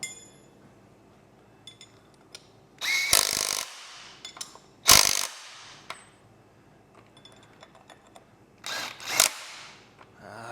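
A power tool tightens the rear suspension nuts on a 1957 Chevy truck restomod fitted with a C4 Dana 36 rear end. It gives three loud, short whirring bursts a few seconds apart, with faint metallic clinks and shop noise between them.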